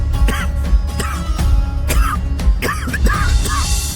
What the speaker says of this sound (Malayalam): ഒരാള് മുറിയിൽ ശ്വാസം കിട്ടാതെ കിടന്ന് ചുമക്കുന്നുണ്ടെന്ന്